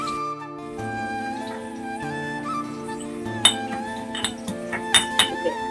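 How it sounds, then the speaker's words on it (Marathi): Ginger and garlic being crushed for dal khichdi: a handful of sharp, irregular knocks and clinks, growing more frequent toward the end, heard close over a steady tonal musical background. "आळा लसूण ठेचून टाकते."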